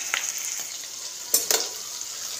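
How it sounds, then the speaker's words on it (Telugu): Egg burji with onions frying in a pan gives a steady close sizzle, with a few sharp scrapes of a spatula stirring through it. "మంచిగా ఫ్రై అవ్వాలి."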